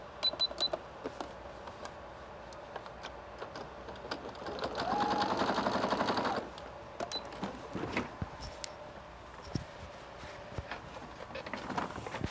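A sewing machine runs a straight stitch on a tie shirt or canvas bag. Its whirring hum lasts about two seconds midway, set among quieter room noise and small handling clicks.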